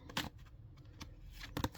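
Tarot cards being shuffled by hand in quiet, close bursts of riffling, two main flurries separated by softer handling.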